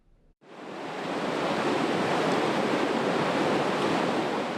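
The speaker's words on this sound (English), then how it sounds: "Precious snowmelt turning into raging rapids" Snowmelt-fed rapids on the Kern River, a steady, loud broadband roar of rushing whitewater that swells in after a brief quiet start and holds constant without any voices.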